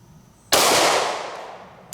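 A single sharp pistol shot from a Kimber Camp Guard 10 cracks loudly at close range and rings out in a long decaying tail, followed by a faint small clink.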